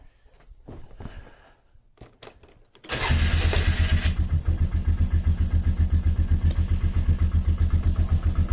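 A Polaris Trailblazer ATV engine after reassembly, which cranks and catches with a loud burst, then settles into a steady, close, rhythmic putter, following a few seconds of quieter handling noise.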